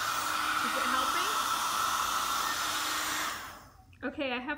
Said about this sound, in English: I'm going to just bust out the hairdryer just to see what happens